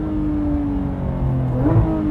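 Porsche 911 GT3 RS engine humming at a steady pitch heard from the cabin, with a brief rise in revs and a quick pitch change near the end.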